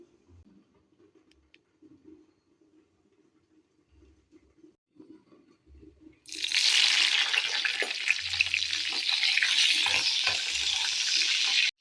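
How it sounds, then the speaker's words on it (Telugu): Green chillies go into a pan for tomato roti pachadi. After a quiet stretch of faint clinks and shuffling, a loud, dense sizzle bursts in and keeps frying steadily to the end. "ముందుగా పచ్చిమిరపకాయలు వేయించుకుందాం."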